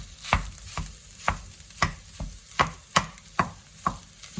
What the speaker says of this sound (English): I'm now going to mash this mince up